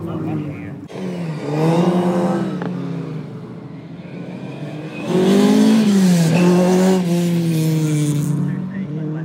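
Rally car engines, including Ford Escorts, rev and roar in a couple of loud surges at a retro rally event, with engine tones rising and falling close by, and faint crowd chatter in the background.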